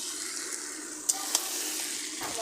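Mutton for kosha curry sizzles steadily in oil as it is stirred in a pan, with a continuous close frying hiss and two sharp utensil clinks, and no talk.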